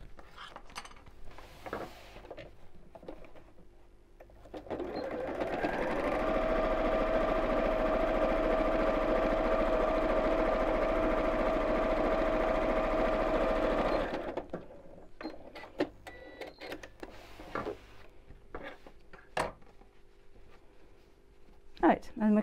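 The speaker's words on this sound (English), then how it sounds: "now this time I'm just going to top stitch across the bottom" A sewing machine top-stitches across the bottom of a fabric purse, running steadily and loudly for about nine seconds in the middle, with talking before and after it.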